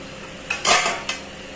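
A plate lid is lifted off a pot of boiling Yippee noodles, a short metallic clatter with a brighter scrape in the middle, close and alone in a quiet kitchen.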